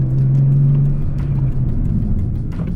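A Nissan 370Z Nismo with Z1 rotors and Akebono pads drives and slows under braking, a loud close cabin engine drone with a steady low tone that fades as the car decelerates, without talk.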